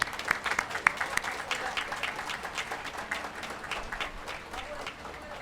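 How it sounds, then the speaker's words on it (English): Audience at a postgraduate convocation ceremony applauding graduating management students, a fairly quiet, continuous patter of many hands with a few sharper claps early on. "A big hand of applause for them."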